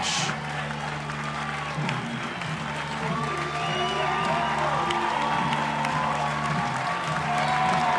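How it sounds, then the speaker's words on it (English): Home crowd at a women's softball game applauding a pitcher leaving the game, steady moderate clapping and cheers from the stands, with background music or organ tones and a low hum throughout. "A well-deserved round of applause from the home crowd for Ballman."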